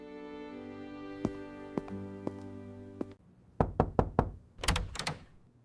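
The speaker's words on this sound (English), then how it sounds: "Let's go knock on their door." Knuckles rap on a neighbour's front door in an evening home setting: a few spaced single knocks, then quicker clustered bursts of two and three firm raps, close and clear with quiet room tone between.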